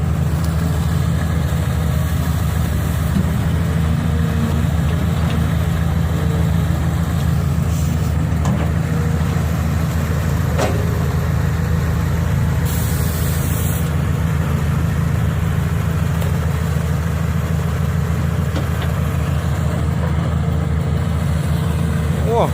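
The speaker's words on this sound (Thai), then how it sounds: "ดูการทำงานยาวๆไปเลยครับของแคทสามสองศูนย์สี่กระบอก" A CAT 320C excavator with red hydraulic cylinders works on a large earthmoving site, its diesel engine droning steadily and loud up close with a deep low rumble throughout, plus occasional clanks and hydraulic surges.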